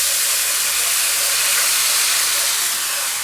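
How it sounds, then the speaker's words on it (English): A garlic and honey mixture poured onto a hot pan for pork chops hisses in one loud, continuous sizzle lasting about three seconds. "you're going to pour in the garlic honey mixture onto this hot pan"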